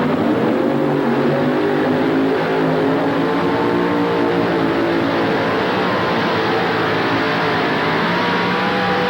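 The Georgia Bulldog pulling truck, fitted with a new engine, roars continuously at full throttle during a tractor pull run at an arena in Hampton, Virginia, loud and close with a dense, sustained rumble.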